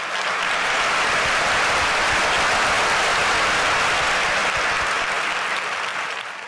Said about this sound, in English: So a big round of applause to everybody who's here and everybody who's watching.